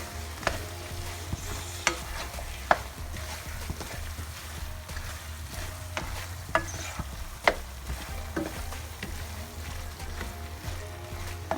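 Spring onions fry in a pan for a smoked turkey pasta bake, a constant soft sizzle under a low hum with regular light clicks and scrapes of a stirring spoon.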